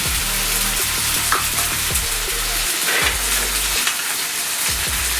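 Onion paste and tomato paste frying in oil as they are mixed in a pan for Hyderabadi ginger chicken, with a continuous close sizzle and stirring scrapes and clinks, no talking.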